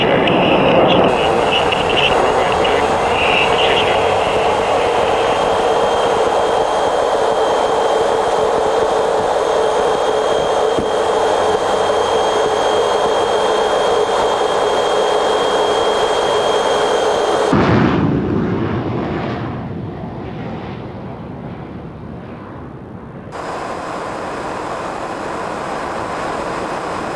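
A Blackburn Buccaneer jet aircraft taking off, its engines delivering a loud, sustained roar that holds steady for most of the stretch before abruptly dropping and thinning toward the end.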